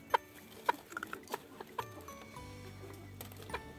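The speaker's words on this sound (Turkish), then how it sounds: "Bu yeni aldığımız tavuklardan biri olan kel boyunlu kız var." Naked-neck hens clucking inside a coop beside the nesting boxes, a series of short distinct clucks close by over the first two seconds, then a lone low drone and one more cluck.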